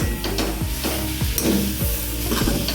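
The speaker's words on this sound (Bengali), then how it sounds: "গুড়টা দিয়ে আবার একটু নাড়বো" Jaggery is stirred into grated coconut in a hot pan, making rhythmic scraping strokes about every half second over a soft, continuous sizzle, close by and without talk.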